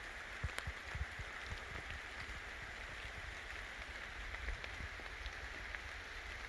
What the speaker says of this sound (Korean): 하늘에 비가 내리고 있습니다, 계속.